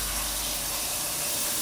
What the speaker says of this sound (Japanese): これ一回水で洗っていきます